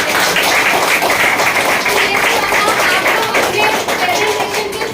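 Audience applause for a presenter at a business plan presentation in Virar West, a dense, steady wash of many hands clapping that fills the whole stretch at even loudness.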